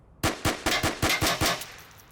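Seven rapid rifle shots ring out in a steady burst in the VR game Onward, each a loud crack with a short decaying tail, then a brief fading echo.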